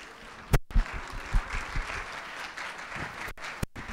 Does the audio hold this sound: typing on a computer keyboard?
no